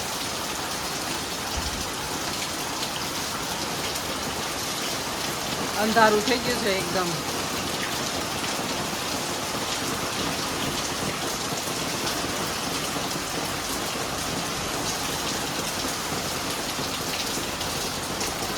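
A steady downpour roars loud and close for the whole stretch, with a person speaking briefly over it partway through.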